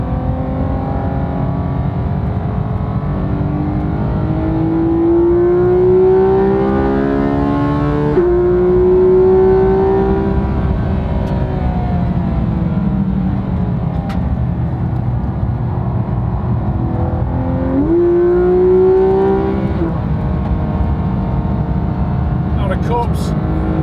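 A car engine revs and shifts pitch as it is driven hard through tight corners with heavy braking, the loud drone rising and falling steadily throughout while someone talks over it.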